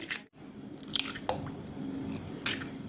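Eggs cracked and dropped into milk in a large baking tray, soft wet squishes and drips with a few light taps, close and fairly quiet.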